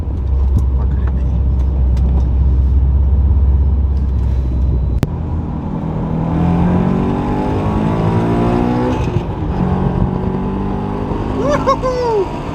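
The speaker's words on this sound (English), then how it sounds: "This car is fast, man." Toyota GT86 sports car accelerating hard from inside, a loud steady engine drone that rises through rising harmonics with a shift partway, while a person whoops and talks over it.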